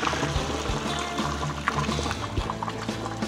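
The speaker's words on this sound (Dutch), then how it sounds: "En dan gaan we gewoon dat kokend water weggieten." Boiling water pouring and splashing into a sink, a continuous gushing with some clanks and gurgles, close by.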